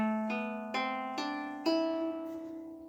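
A lyre plucked with thumb and fingers plays four ringing notes in a slow, steady sequence. Each note has a clear attack and a long, gently decaying sustain, close and intimate with no talking.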